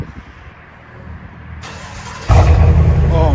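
GMC Sierra Denali with a 6.2L V8 and a Super 10 Outlaw race muffler, starting with a quiet low rumble that jumps abruptly into a loud, deep, steady idle growl close by.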